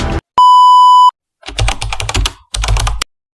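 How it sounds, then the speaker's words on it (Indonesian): A loud, steady electronic notification beep sounds once, signalling that a rebel hideout has been found. Bursts of rapid computer keyboard typing follow, and no one speaks. "Terdengar notifikasi yang menandakan mereka telah berhasil menemukan tempat persembunyian pemberontak"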